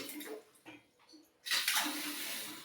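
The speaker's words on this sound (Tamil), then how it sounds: "இது பாருங்கள், டேப்லாம் ஆன் பண்ணி காட்டுறேன். தண்ணி பாருங்கள் எவ்வளோ சாஃப்டாக ஸ்மூத்தாக வருது." A bathroom wash basin tap with mixed hot and cold water is turned on after a few faint knocks, and a steady, soft stream of running water then flows close by.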